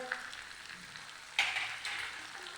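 Chilli powder, turmeric and spices fry in oil with potato and cauliflower, a faint close sizzle broken by a couple of brief stirring scrapes.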